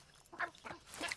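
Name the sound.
rooster Chicharron squawking in the video game Far Cry 6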